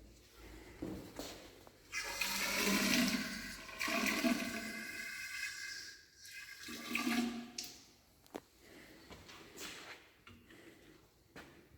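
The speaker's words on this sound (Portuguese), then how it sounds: "E eu vou colocar 220 de água." Water poured from a 100 ml graduated cylinder into a mix for a building-materials pull-out test, several bursts of splashing and gurgling pouring over about twelve seconds with pauses and small knocks between, no talking.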